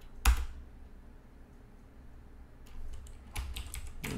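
Keyboard typing at a computer running FreeBSD, a few quiet clicks and short bursts of keystrokes close by, with a sharp tap near the start and a faster cluster toward the end.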